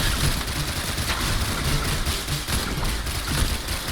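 A firing squad in Risk of Rain Returns lets off dense, continuous rapid gunfire, a loud unbroken volley with no speech.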